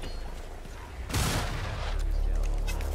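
A Skaven Rattling Gunner in Vermintide opens fire: a sudden loud burst of rapid gunfire erupts about a second in and keeps hammering steadily to the end.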